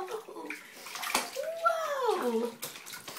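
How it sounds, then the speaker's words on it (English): A little girl splashes water in a bathtub, sloshes and splashes heard up close beneath excited adult talk and a voice. "She splashed mommy."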